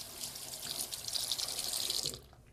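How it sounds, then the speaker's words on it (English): Water running from a sink faucet during hand washing, a steady close hiss of flowing water that stops abruptly near the end. "then turn on the faucet, and then quickly wash it"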